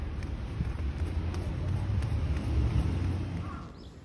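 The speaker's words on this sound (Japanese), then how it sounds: "今は朝で、通勤の人や車通りが結構多いです" Morning commuter traffic on a Tokyo street in June, a steady low roar of passing cars with wind buffeting the microphone, fading somewhat toward the end.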